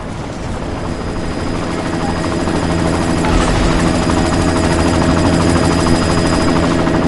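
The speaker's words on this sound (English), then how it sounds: "You've got to stop that chopper." Helicopter in the Deus Ex: Mankind Divided video game, a loud, steady rotor drone that continues unbroken throughout, with a faint rattle of distant gunfire beneath it.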